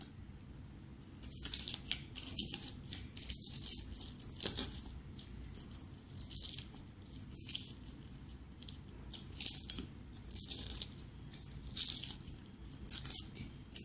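Fried dried red chili crushed and rubbed by hand for a Bangladeshi garlic bhorta, giving soft crackling crunches and rustles in uneven bursts, close and moderately quiet, with no talking.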